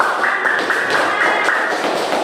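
A group of students in a classroom lesson clap their hands together, a dense, steady patter of applause that runs unbroken at close range with no talk over it.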